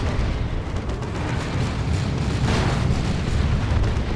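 Rocket run explosions in the real-time strategy game Dawn of War 2: Retribution during a 2v2 match make a dense, continuous roar of overlapping booms and blasts, loud throughout with no pauses.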